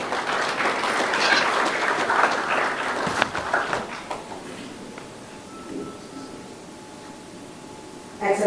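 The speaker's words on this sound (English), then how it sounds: "Adeyemi, secrétaire générale de la CAFAC, que je vous demande vivement d'applaudir, s'il vous plaît" An audience applauds at an anniversary ceremony, a dense patter of clapping that gradually thins and fades over several seconds.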